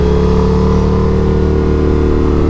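An Indian FTR 1200 R motorcycle engine running on the road, a loud, steady, close mid-pitched drone with a constant hum and no pauses.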